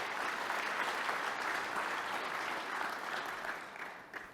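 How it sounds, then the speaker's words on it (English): Audience applause at a live corporate event, a dense, steady wash of clapping from a sizeable crowd that holds for several seconds and then tapers off. "Round of applause to our SOS team."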